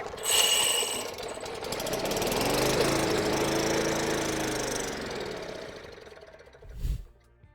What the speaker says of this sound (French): Après un premier essai pour démarrer la tondeuse